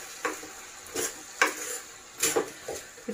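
Drumstick and mango sambar being stirred in a pot, a spoon scraping and knocking in a handful of separate strokes over a soft simmering bubble, close and fairly quiet.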